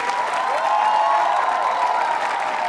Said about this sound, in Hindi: तालियां बजाइए जोरों से आप।